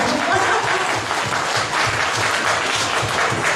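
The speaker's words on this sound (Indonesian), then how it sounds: "Berikan tepuk tangan lebih dahulu." Seminar audience applauding steadily, a dense wash of hand claps that stays loud and even throughout without a break.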